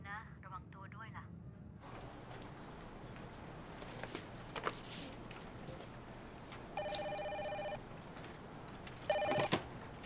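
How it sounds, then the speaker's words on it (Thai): A telephone rings in a quiet room, two short bursts of electronic trilling a few seconds apart, preceded by brief talk and faint footsteps and movement. "พี่จูนคะโทรศัพท์จากอเมริกาค่ะ"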